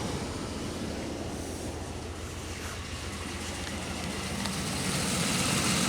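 A Pontiac Aztek engine, pulled from a junkyard, idles with a steady, dense mechanical rumble. The noise grows slightly louder toward the end, with no voices over it.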